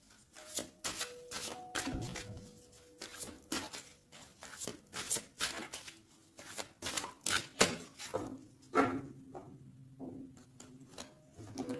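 A deck of tarot cards is shuffled and cut by hand in a quiet room, giving repeated crisp riffling and flicking bursts in an irregular rhythm, close and fairly soft, with a brief hum of voice toward the end.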